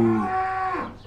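A rodeo bull in a field lets out a single low, drawn-out moo, close and fairly loud, fading after about a second.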